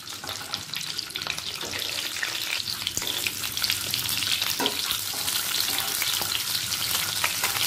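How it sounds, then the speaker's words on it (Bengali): Scored whole eggs fry in ghee in a pan with a loud, continuous sizzle and crackle that stays close and even throughout. There are occasional stirring scrapes and no voices. "ডিমগুলোকে হালকা লাল করে ভেজে নেব"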